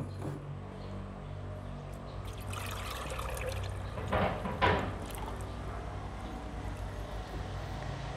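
Molasses poured into a container of water while making lactic acid bacteria serum, a soft trickling and splashing pour with a few louder gulps midway, nearby and without speech.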